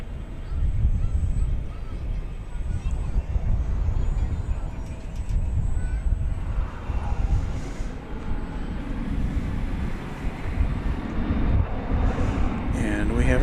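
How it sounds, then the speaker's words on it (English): An American Airlines jet taking off at DFW Airport, with a broad rumbling engine roar that rises and stays loud, while air traffic radio chatter runs underneath. "And we have a takeoff."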